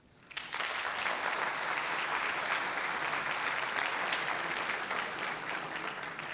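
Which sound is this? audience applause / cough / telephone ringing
audience applause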